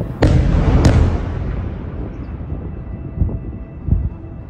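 Explosions in Gaza: two sharp, loud blasts close together near the start, followed by a long rumbling decay and a couple of softer distant thuds later on.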